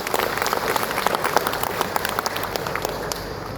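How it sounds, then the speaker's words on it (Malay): A crowd at an official speech gathering applauds in a dense, even roar of many hands clapping together, sustained without pause. "satu tepukan gemuruh untuk diri"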